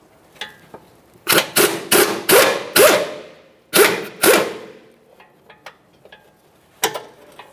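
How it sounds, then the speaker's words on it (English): A 17mm control arm mounting bolt being removed on a Subaru Outback, heard as a close series of sharp ratchet clicks in short rapid bursts, then a pause and one more burst. "We'll hold that mounting nut, and then we'll continue on removing the bolt."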